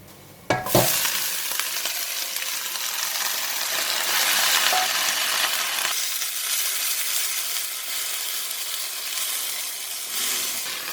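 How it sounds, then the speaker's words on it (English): Watercress hits a hot pan with garlic and bursts into a loud, sustained sizzle and crackle. The frying stays dense and close throughout, easing slightly partway through, with occasional stirring sounds beneath. "And then I will put in the watercress."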